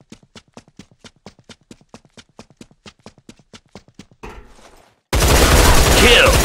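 In the first-person shooter Line of Sight, a regular string of sharp, evenly spaced shots rings out, then a short rough burst, then a loud, dense barrage of gunfire that ends the clip.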